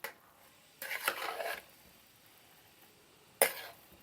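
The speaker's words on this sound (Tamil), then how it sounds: "நல்லா கலக்கி விட்டுட்டு" A spoon stirs a one-pot tomato pongal cooked with coconut milk, making two short bursts of metallic scraping and clanking against the pot with quiet pauses between.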